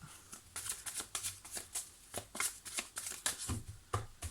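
Tarot cards being shuffled by hand for an astrological reading, a steady run of crisp riffling slaps and flutters repeating about every third of a second, close and quiet with no voice.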